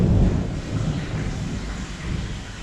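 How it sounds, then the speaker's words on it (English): Deep thunder rolls and rumbles for a few seconds during a storm in Bali, a low continuous boom with faint rain and wind hiss and no voices. "it's just having massive thunder"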